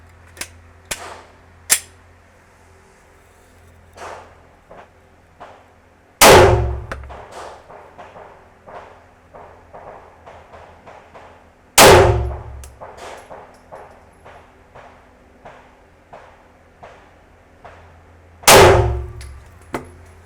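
Three loud, sharp Glock 34 pistol shots fired at 20 metres, spaced several seconds apart, with scattered fainter pops and clicks between them.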